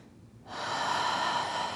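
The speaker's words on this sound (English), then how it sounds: "Let's take about 2 more deep breaths." A single deep breath during a gentle yoga session for tight shoulders, a close, airy inhale swelling after a brief quiet moment and holding steady, breathy and alone without talk.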